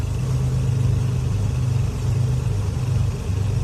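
Beechcraft Baron B58 twin-engine aircraft in the FSX flight simulator, one engine freshly started, a steady low droning rumble holding even throughout.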